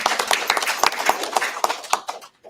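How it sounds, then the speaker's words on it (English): An audience claps in unison for a couple of seconds at a book reading, a dense patter of hand claps that thins out and fades near the end, with no talking. "Let's give a moderate clap and appreciation for everyone."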